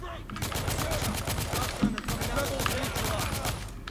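Rapid gunfire from the video game The Order: 1886 rattles in dense repeated bursts, with low rumble beneath and a voice talking over it.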